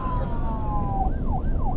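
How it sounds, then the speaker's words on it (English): A police siren wails nearby, a falling tone giving way to rising and falling yelps, loud over the rumble of a moving car. "Hit the siren."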